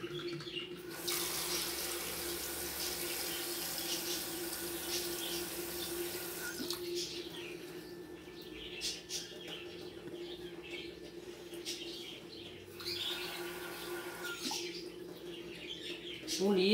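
Tap water runs steadily into a cooking pot being filled with about two litres for making pickled vegetables, a close hissing stream that stops, pauses, then starts again.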